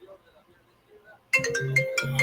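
A mobile phone ringtone bursts in loudly as a melodic, repeating tone pattern, cutting off soft talk that comes just before it.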